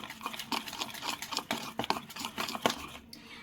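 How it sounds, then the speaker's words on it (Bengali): Semolina idli batter with salt is stirred briskly in a bowl, giving repeated soft scraping and tapping strokes at a steady rhythm, close and moderately loud, with no talking. "লবণটা দিয়েও ওই একইভাবে নাড়িয়ে নিচ্ছি।"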